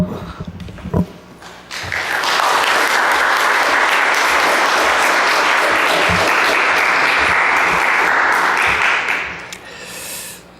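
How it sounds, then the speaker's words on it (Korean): A church congregation breaks into warm, sustained applause to welcome the pastor, swelling after a few scattered claps, holding full and dense for about seven seconds, then fading out. "우리 목사님 나오실 때에 우리 뜨겁게 박수로 환영해 주시기를 바랍니다"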